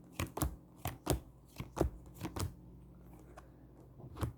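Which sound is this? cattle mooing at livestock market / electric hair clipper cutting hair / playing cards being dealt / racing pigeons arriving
playing cards being dealt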